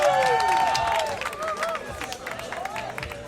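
Crowd applauding and cheering after a rally in a professional padel Grand Slam quarter-final in Singapore, a broad burst of clapping that fades under a commentator's voice.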